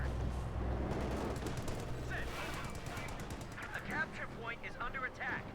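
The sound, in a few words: machine gun fire in Company of Heroes 2 video game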